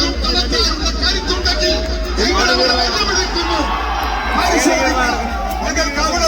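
A large, excited crowd murmurs and cheers at a Congress UDF election rally in Palakkad. Steady babble and scattered whoops continue throughout alongside voices.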